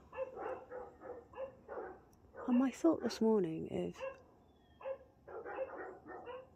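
Dogs let out a brief burst of wavering, yelping howls in the middle, loud and close, while someone talks before and after.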